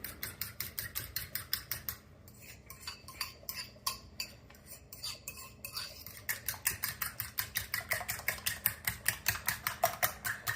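Eggs beaten with salt and chili powder for a Jaffna-style omelette, a fork or whisk clicking rapidly and rhythmically against a bowl, close and crisp, with a brief pause partway.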